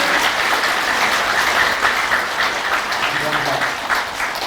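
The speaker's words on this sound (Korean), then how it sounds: "우리 합회장님과 임부장님한테 큰 감사의 박수 좀 한번 보내드리겠습니다." Audience applauding at a Korean church mission gathering, a dense sustained roar of many hands clapping throughout, loud and steady with a faint voice mixed in.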